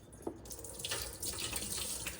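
Water is drained off chopped potatoes at a kitchen sink while making a crock pot beef stew, giving a faint, steady pour and splash that runs continuously through the short moment.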